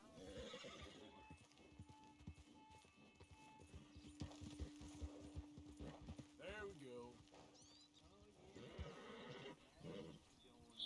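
A horse in the video game Red Dead Redemption 2 is hitched by a river, with clip-clopping hooves, snorts and a couple of whinnies, while someone talks over it.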